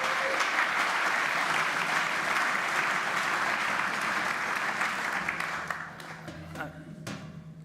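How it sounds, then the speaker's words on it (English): A lecture-hall audience applauds at a talk on Manhattan history, sustained clapping that gradually thins to a few scattered claps and some shuffling near the end. "Give him one more round of applause"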